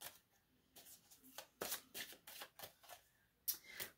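Love Vibe oracle cards riffle in quick, crisp bursts at close range, a series of short papery flutters and snaps, quiet overall with gaps between shuffles.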